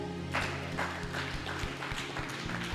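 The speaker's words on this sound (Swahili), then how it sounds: "Jipigie makofi." A church audience claps for a few seconds, a dense run of sharp hand claps with a steady low hum underneath, moderately close and without speech.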